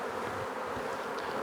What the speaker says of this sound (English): shake the bees off